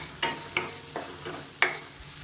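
Tomatoes with salt and curry leaves sautéing in a kadai for Chettinad egg curry: a soft sizzle broken by four distinct spoon scrapes and stirs at uneven intervals, close and alone.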